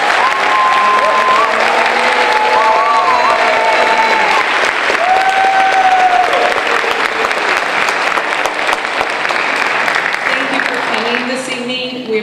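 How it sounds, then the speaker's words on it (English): Applause at a 2019 school awards ceremony fills the room with steady, dense clapping from a large audience, with some voices and background talk mixed in, thinning out near the end. "If we could give everybody a round of applause."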